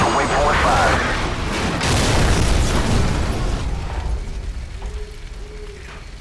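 A missile strikes a helicopter in Call of Duty 4: Modern Warfare, a loud booming blast with rumbling debris that fades into lingering low noise and faint mechanical sounds, with voices partly underneath.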